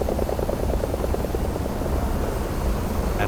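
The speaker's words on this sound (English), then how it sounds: "release the brakes and accelerate to maximum RPM" A simulated A-29B turboprop engine roars steadily at full power for takeoff, a dense, loud drone with a fast pulsing propeller beat that fades slightly toward the end.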